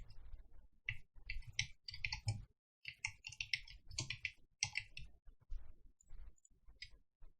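A name is typed on a computer keyboard during CAD software work, a quiet close series of irregular key clicks in short bursts with brief pauses.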